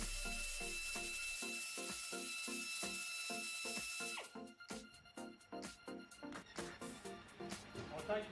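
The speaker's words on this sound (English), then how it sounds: "I'll be switching the fittings on the hub buffing tool to clean the wheel studs. That's actually an internal wire brush." A hub buffing tool fitted with an internal steel wire brush spins over wheel studs. A steady high whir gives way to choppy, rhythmic scraping bursts up close.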